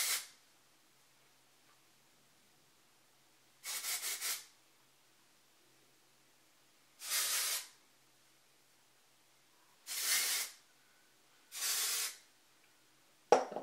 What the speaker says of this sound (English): It just makes everything kind of like a little bit rougher, but it's like hairspray without being hairspray.